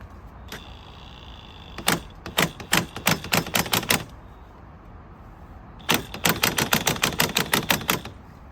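An impact wrench or similar power tool tightens the screw of a coil spring compressor on a suspension strut, in two bursts of rapid hammering clatter, the first around two seconds long and the second longer and denser, close and loud.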